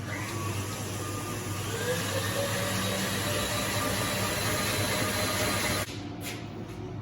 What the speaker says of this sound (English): I'm going to turn the speed up, and what that's going to do is going to whisk more air into it